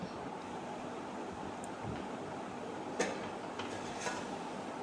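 Salted water rolls at a full boil in a covered pot, a steady, even rushing hiss with a few faint ticks and small bubbling pops.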